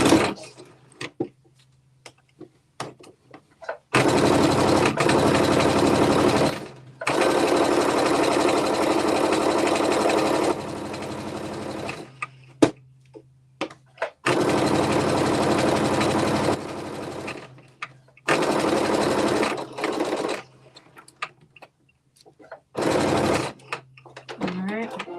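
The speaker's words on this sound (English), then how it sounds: "I'm only going to stitch from the side seam edge all the way at the bottom of the pocket to the top edge of the pocket." Sewing machine stitching a pocket seam from the side seam edge, loud steady whirring runs in several bursts of a few seconds each, separated by quiet gaps with clicks and a person talking.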